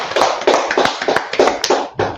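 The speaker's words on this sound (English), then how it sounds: "Clap it up for the class." A class claps in unison, giving about eight loud, rhythmic group claps that land close together with short gaps between them, and nobody speaks.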